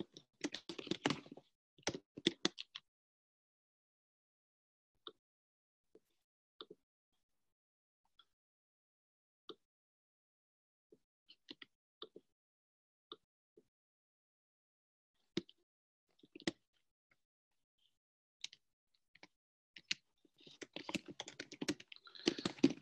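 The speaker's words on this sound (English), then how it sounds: "I'm just typing in some information." Typing on a computer keyboard, heard as dense bursts of clicks at the start and end with sparse, isolated keystrokes in the quiet stretch between, close and fairly soft.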